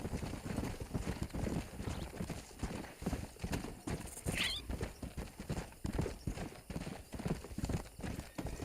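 Rapid, steady hoofbeats of a galloping horse in the video game Red Dead Redemption pound throughout, with a brief whinny partway through and muffled voices underneath.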